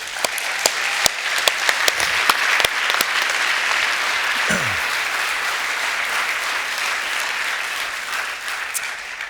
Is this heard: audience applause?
yes